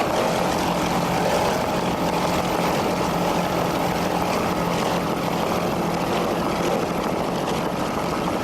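26-foot Scarab powerboat racing, its engines roaring in a loud continuous drone that holds steady throughout.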